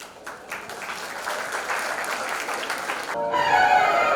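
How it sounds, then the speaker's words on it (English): Audience applause for student performers at a school event, steady dense clapping building in loudness, with a music track starting up near the end. "let's welcome with a round of applause our second students with their rocking performances"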